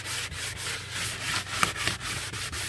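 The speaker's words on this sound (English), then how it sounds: "I'm sanding this to try to get the" Rhythmic scratchy strokes of sandpaper rubbing a surface, repeated back and forth at a steady pace, close and fairly quiet.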